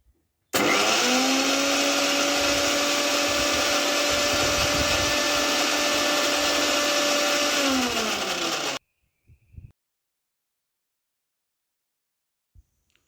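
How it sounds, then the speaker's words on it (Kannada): A kitchen mixer grinder whirs loudly and steadily for about eight seconds as it grinds Oreo biscuits with milk, then stops abruptly, followed by a few faint clinks. "ಹಾಲು ಹಾಕ್ಕೊಂಡು ಚೆನ್ನಾಗಿ ಅದು ನುಣ್ಣಗಾಗೋ ತನಕ ರುಬ್ಕೋಬೇಕು ಫ್ರೆಂಡ್ಸ್"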